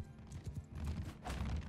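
Horse hooves clip-clop in a quick irregular rhythm on a bridge in the Bannerlord game, fairly close but quiet, with a faint whinny among the steps.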